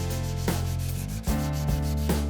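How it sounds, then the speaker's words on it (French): Hand sanding a curved wooden clock with sandpaper, medium then fine grit, steady close back-and-forth rubbing strokes in a continuous rhythm. "Commencez par le ponçage, d'abord moyennement grossier, puis un grain plus fin."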